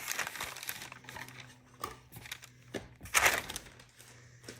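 Paper packaging from an art supply haul is crinkled and crumpled in several bursts of rustling, close and fairly soft, with the loudest crush near the end and no talk.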